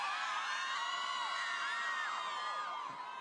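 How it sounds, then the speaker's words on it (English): A large crowd of fans at a One Direction US film premiere screams and shrieks continuously, loud and dense, with overlapping high-pitched yells and whoops blending into a steady roar. "I need everybody to scream out their favorite One Direction member name"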